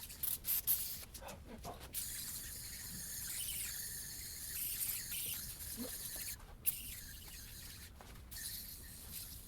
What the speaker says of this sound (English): so I just sprayed it all, and it's the coil right now is saturated with it